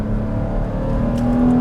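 A 981-generation Porsche Cayman with the factory sport exhaust accelerates in second gear on a normal road, the engine a loud, smooth droning growl that rises steadily in pitch, heard from inside the car.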